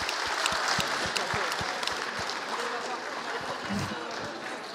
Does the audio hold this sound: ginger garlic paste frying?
no